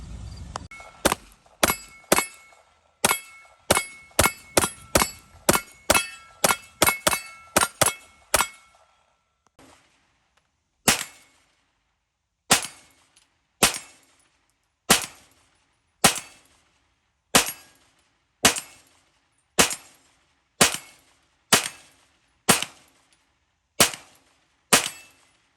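A CZ Shadow 2 pistol fires steel-case, brass-washed full metal jacket ammunition in sharp, loud reports. A quick string of shots is followed by a pause, then a steady series of single shots at even intervals, each ringing off metal targets.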